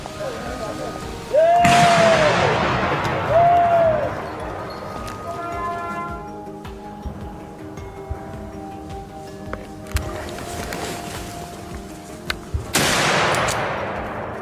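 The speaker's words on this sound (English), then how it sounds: "a rapid volley of shots rang out, taking down each one" Gunfire during a wild boar hunt: sharp, loud shots burst out in separated clusters, with rapid cracks early on and again near the end, ringing against a dim background, no talk.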